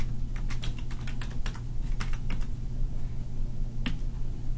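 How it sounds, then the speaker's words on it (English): Fingers typing on a computer keyboard while entering data into a bulk upload template, a quick cluster of sharp close key taps, a pause, then one more isolated keystroke. "Type in the correct county."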